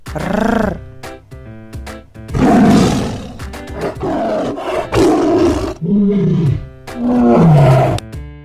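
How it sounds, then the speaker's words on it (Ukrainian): A tiger roars loudly several times in separate bursts, deep and rumbling, with faint musical notes between them. "Тигр речить."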